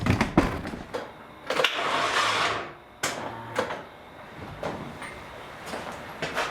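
Nissan 240SX engine cranking over on its first start attempt in two years, a sluggish starter whir in several bursts with pauses between, close and moderately loud.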